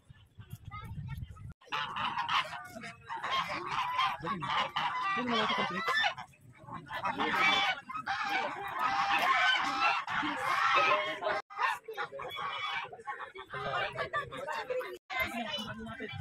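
Ducks quacking and honking over a busy mix of chatter and other farmyard fowl, fairly loud and near, with occasional pauses.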